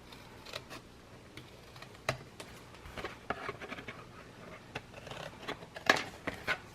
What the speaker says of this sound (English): Then after that, you can just snip, snip.